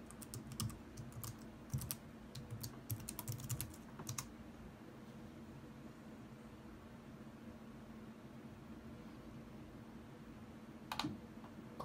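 A password is typed on a computer keyboard in quick bursts of close key clicks, then a long quiet stretch with faint hum, and one more short flurry of keystrokes near the end.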